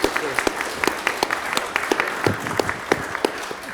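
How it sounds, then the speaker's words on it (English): Applause for the speakers fills a conference hall after a panel session, with scattered, uneven claps from a modest crowd, individual hands standing out as sharp, distinct cracks. "let's give a round of applause to"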